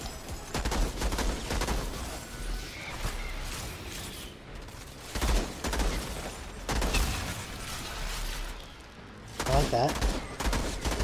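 Weapon fire in the looter-shooter Outriders, a newly acquired gun letting off loud, dense bursts of rapid shots in several volleys across the span, mixed with game effects and booms, a voice talking intermittently over the action.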